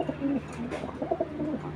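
A foreign-bloodline racing pigeon coos softly nearby, a few low throaty murmuring calls repeating over a faint background hum.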